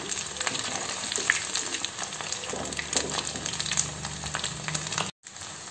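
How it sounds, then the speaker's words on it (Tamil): Mushroom chilli pieces fry in hot oil in a pan until crisp, a steady close sizzle and crackle that runs continuously with a brief break near the end. "திருப்பி போட்டு நல்லா முறு முறுன்னு ஆகிற வரைக்கும் வேக வச்சு நம்ம எடுத்துக்கலாங்க"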